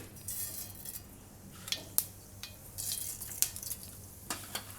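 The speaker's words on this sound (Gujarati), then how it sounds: "તો તેલ આપણું ગરમ થઈ ગયું છે. એમાં આપણે થોડીક નાખીશું રાઈ" Mustard seeds crackle and sizzle in hot oil in a pan while tempering for Gujarati bhurji fried rice, a soft steady fry with sharp intermittent pops and clicks, close and moderately quiet, no talking.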